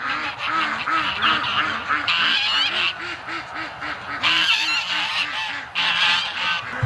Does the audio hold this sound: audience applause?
no